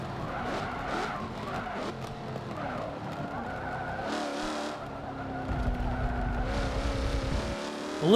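Car drifting and skidding through turns in Forza Motorsport 7, the engine droning steadily with tires squealing and sliding across several bends, a heavier rumble building toward the end.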